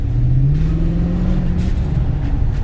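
Engine of a newly purchased used car pulling steadily under acceleration on a drive, a loud continuous low rumble with a smoothly rising tone, close up inside the cabin.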